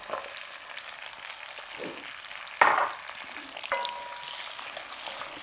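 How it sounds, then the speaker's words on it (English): Cubed turnip sizzling and frying in a pot for a shrimp and bacon chowder, with a constant soft crackle, one sharp clatter of stirring midway and a smaller knock later. "we're just going to cook these about 5 minutes until they're nice and softened"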